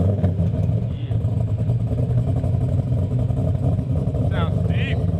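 A Dodge Demon with Kooks long tube headers and full exhaust idles on its first start, a deep, steady rumble held at an even level with faint clatter over it.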